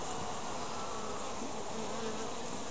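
Honey bees buzz continuously during a hive inspection, a dense steady droning swarm close to the listener, filling the whole stretch at a constant level.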